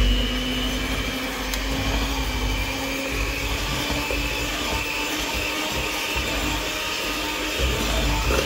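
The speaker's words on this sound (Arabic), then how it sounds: "فبضل عم بخفق تيصير القوام كريمي" An electric mixer whips butter for Eid petit four cookies with a steady, close whirring drone that holds unbroken throughout, no voices over it.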